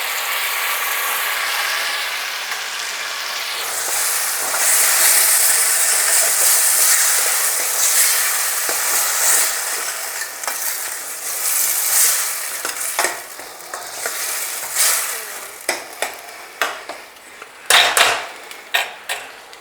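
Green chilies and chopped tomatoes fry loudly in a pot for langar-style dal, with a dense steady sizzle that later thins into a series of irregular scraping and clattering stirs.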